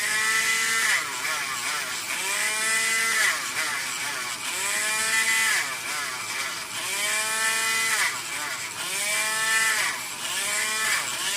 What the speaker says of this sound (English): I just take the Dremel tool with the very, very soft grit.